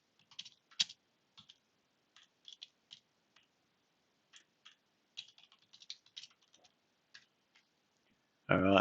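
Someone types on a computer keyboard in short, irregular bursts of light, crisp key clicks with pauses between them, fairly close and quiet, ending in a sudden louder noise.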